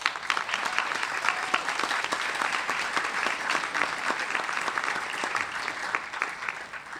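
An audience at a Constitution Day event on a university campus claps steadily, a moderately loud, even round of applause heard from within the room without talk.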